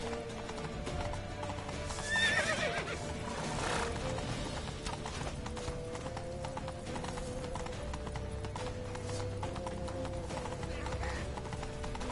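Horses in a PS4 video game, with hooves clip-clopping steadily and a clear neigh near the start, mixed under game music and dialogue.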